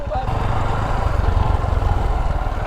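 A motorcycle engine rumbles steadily nearby with a low, pulsing drone, loud and continuous for the whole stretch.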